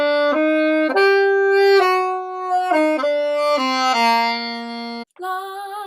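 Alto saxophone carries the melody of a song, clean sustained notes stepping down and back up in phrases, played solo with a short gap near the end.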